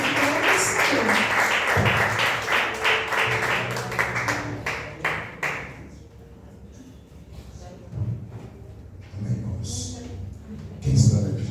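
A church congregation claps steadily in a large room during a Wednesday service, the applause fading after several seconds into murmuring and a voice speaking.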